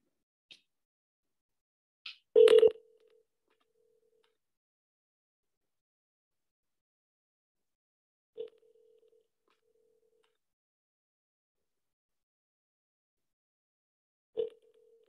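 Telephone ringback tone on an outgoing business call, a few sparse isolated tone bursts separated by long silent gaps, faint and thin as if through a phone line.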